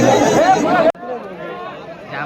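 A dense outdoor crowd at a bullock cart race produces loud chatter and shouting voices nearby, which cut off abruptly and then give way to a softer, more distant babble.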